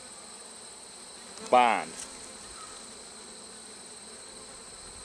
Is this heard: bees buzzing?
yes